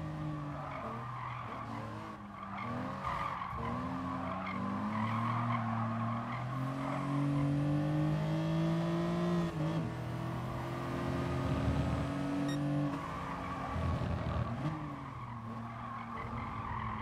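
Race car in Gran Turismo Sport skidding with sustained tire squeal and engine revving, loud and continuous with shifting pitch throughout, no talk over it.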